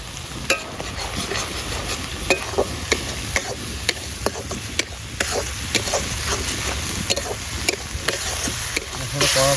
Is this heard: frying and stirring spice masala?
yes